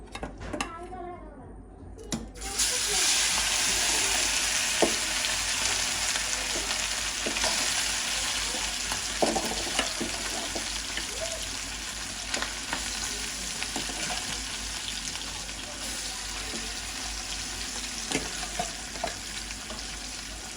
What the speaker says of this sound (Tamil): ஓகே இது நல்லா பொரியட்டும்.